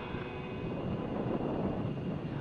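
Propeller aerobatic airplane flying a Humpty maneuver at an air show over Hampton Roads, a steady broad engine roar with wind noise, fairly distant and continuous throughout.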